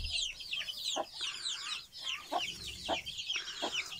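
Several chickens cluck and chatter close by in a village, with short, repeated bursts of clucking over a quiet farmyard background.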